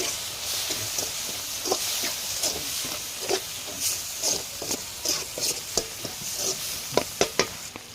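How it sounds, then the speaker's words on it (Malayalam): Chicken masala with curry leaves is stirred in a hot pan, giving a steady sizzle with frequent scraping strokes and spoon taps that grow sharper toward the end, close by and with no voices. "സ്വല്പം കറിവേപ്പില ഇട്ട് നല്ലോണം ഇളക്കുക"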